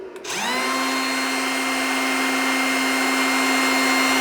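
DeWalt brushless router mounted on a CNC machine switching on and spinning up into a steady, loud, high-pitched whine that holds without change.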